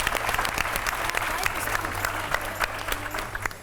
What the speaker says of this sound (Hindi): एक बार जोरदार तालियां हो जाए अब्दुल हन्नान के लिए।